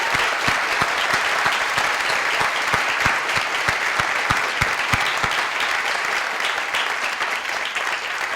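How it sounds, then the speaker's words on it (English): Sustained applause from an audience at a high school junior and senior awards night, steady dense clapping that fills the room with no talk over it. "We could please have a round of applause."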